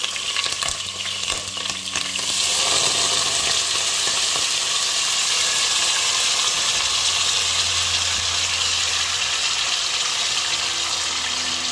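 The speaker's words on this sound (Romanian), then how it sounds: "Și acum, în uleiul fierbinte, punem carnea." Chicken meat hits hot oil in a pot, starting with a few clunks and splashes before breaking into a loud, steady sizzle that holds for the rest of the clip with no talking.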